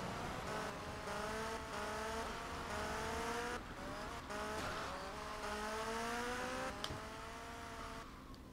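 A motorbike ridden in GTA Vice City, its engine whining as it climbs and drops through gears in repeated rising sweeps, steady and fairly close throughout.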